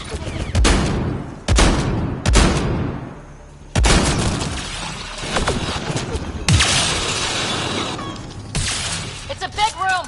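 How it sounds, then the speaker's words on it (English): Gunfight in a gun battery in the video game Mass Effect: Andromeda, with repeated loud bursts of gunfire and booms in rapid clusters, some shattering impacts, and shouted voices over the battle. "It's a gunfight in the gun battery then."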